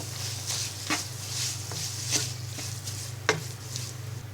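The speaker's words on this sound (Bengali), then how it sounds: "এবার এক কাপ পরিমাণ চিনি দিয়ে দিব এবার চিনিটাকে ভালো করে মশলার সাথে মিশিয়ে দিব" Spice paste frying in a pan for olive pickle as sugar is stirred in, a steady soft sizzle with a few light scraping strokes of the spoon, close and alone without talk.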